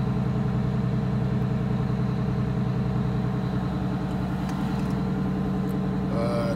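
A bus engine idles at a deliberately raised high idle, a steady loud low rumble with even mechanical drone and faint ticking, continuous and close with no talking.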